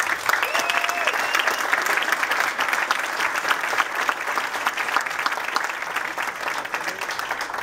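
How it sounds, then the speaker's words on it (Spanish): An audience at the official presentation of the Pantalla Pinamar 2017 film festival applauds in steady, dense applause that lasts throughout, with faint voices and a brief whistle-like tone early on. "el aplauso de ustedes también"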